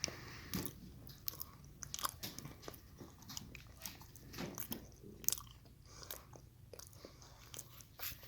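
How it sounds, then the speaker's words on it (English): Someone eats crisps up close, with sharp irregular crunches and bites scattered through steady chewing, loud and with no talking. "Anyone eating crisps is always going to set me off."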